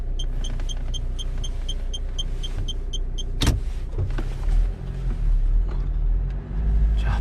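A Kia Sportage R 2.0 4WD pulls out of a parking spot after rain, its engine rumbling low and steady while faint high beeps repeat early on and a sharp creak stands out midway.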